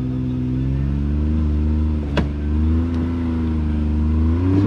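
A Can-Am X3 side-by-side drives along a trail with its engine humming loud and close. The engine revs rise and fall, a sharp knock is heard partway through, and nobody speaks.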